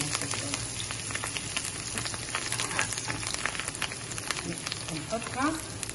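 Coriander frying in a pan for Damascene kibbeh with yogurt, a steady crackling sizzle with sharp pops throughout, heard close, with a voice briefly speaking over it.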